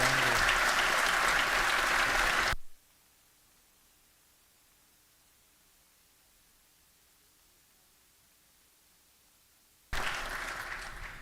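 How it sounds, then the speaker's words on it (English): Audience applause in a legislative chamber during a session day, loud broadband clapping for about two and a half seconds, then silence, then clapping resuming strongly near the end. "Let's give them another round of applause."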